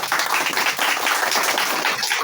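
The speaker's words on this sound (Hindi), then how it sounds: "बहुत अच्छा, ताली बजाइए आप लोग।" A group of students clapping together in a classroom during a Hindi-English tense lesson, steady dense applause filling the whole moment at moderate loudness.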